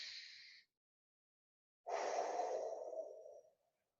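Deep breathing during a beginner core workout: a short airy exhale, a pause, then a longer and fuller breath that fades out, close to the mic with no talking.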